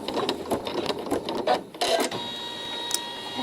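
A computerized embroidery sewing machine stitches a tack-down line, giving a rapid, busy mechanical whir with quick needle clatter and small clicks. It runs close and steady throughout, with no voices.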